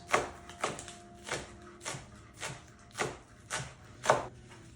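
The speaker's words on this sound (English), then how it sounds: "you're gonna need 3 green onions thinly sliced" A knife thinly slicing green onions on a cutting board, about eight evenly spaced soft chops in a steady rhythm, close and clear with no voices.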